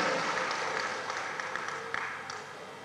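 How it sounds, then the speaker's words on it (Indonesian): A crowd at a NasDem party inauguration ceremony for the Lampung provincial board applauds in a large hall, a steady wash of many hands clapping that gradually fades over about three seconds. "Kita berikan tepuk tangan yang begitu gemuruh pada gubernur kita"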